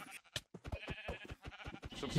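Sheep bleating in a modded Minecraft cave-horror game, several short game bleats in quick succession with people talking over them.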